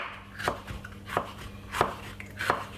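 A very sharp knife dices a small piece of yellow pepper on a board with four crisp, evenly spaced chops about two-thirds of a second apart, close and fairly quiet with no talk.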